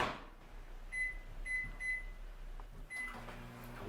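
A microwave oven hums along as it runs, then gives several short electronic beeps in a row at moderate loudness, followed by faint clunking.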